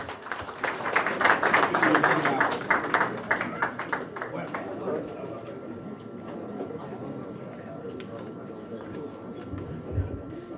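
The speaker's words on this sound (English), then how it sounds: "A round of applause for them, please." Applause from an audience at a Toronto gathering led by the IPOB leader, a dense burst of clapping in the first seconds that fades into a lighter crowd murmur.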